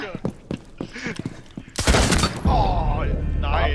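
Gunfire in a Tom Clancy PvP video game, with a loud burst of rapid shots and booming blasts in the second half, following a few sharper earlier reports, while players talk over it.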